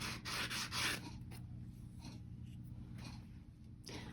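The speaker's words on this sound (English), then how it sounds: "you can take a sanding block. This is like a 120 grit. Just lightly sand and it'll smooth that edge off really nice" Air dry clay edge lightly sanded with a 120 grit sanding block, giving a few close, soft scratchy rubbing bursts, strongest at the start and again near the end, with quieter handling between.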